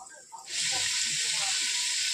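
Potatoes dropped into hot oil on a gas stove burst into a loud, steady sizzle that starts abruptly partway in and holds without a break.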